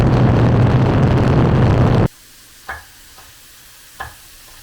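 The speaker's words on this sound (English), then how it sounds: "Right now we are dry sauteing all of the water out." Wild chanterelle mushrooms dry sautéing in a pan, a loud, dense close-up sizzle that cuts off suddenly halfway, leaving quiet with two soft knocks.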